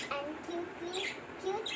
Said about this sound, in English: And they chirp a lot. They chirp so sweetly.